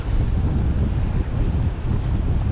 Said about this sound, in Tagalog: Kanina pa tayong sinasampal ng alon.